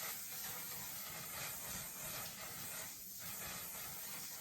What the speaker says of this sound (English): This is their mattifying waterproof setting spray